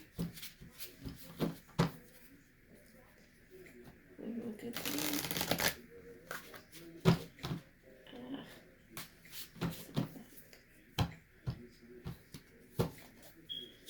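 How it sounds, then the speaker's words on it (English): Tarot cards riffle and slap softly in repeated shuffles close up, with a longer burst of rapid flicking midway, under quiet background noise. "So let me just shuffle."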